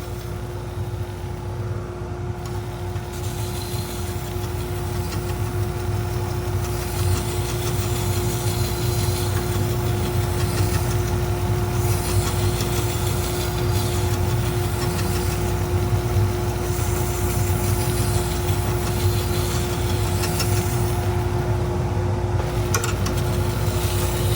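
A slow knife sharpening machine turning at about 1725 RPM hums steadily with a constant low motor drone and faint grinding texture throughout, no voices.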